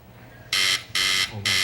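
A 1959 television game show buzzer ending a round: three loud, harsh electronic buzzes in quick succession, each lasting about a quarter second, over a quiet background.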